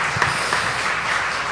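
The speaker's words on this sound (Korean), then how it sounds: "우리 예배를 받으신 하나님께 영광의 박수 올려드리겠습니다" Congregation applauding at a church worship service, a steady, loud, dense wash of clapping filling the whole short stretch.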